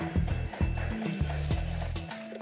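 A pan heating on the stove in a MasterChef Türkiye competition kitchen gives a steady close sizzle and frying hiss, with intermittent low thumps and clatter of kitchen activity throughout.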